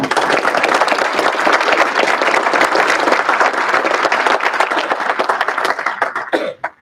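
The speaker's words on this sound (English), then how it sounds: "Please give them a round of applause." A ceremony audience at Ohio Northern University gives sustained applause for new chapter members. The dense, steady clapping fills the room at full volume, then thins and dies away in the last moment.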